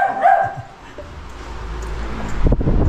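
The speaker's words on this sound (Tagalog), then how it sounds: "May aso pati oh." A dog gives a few short barks close by, followed by a louder rumbling burst near the end.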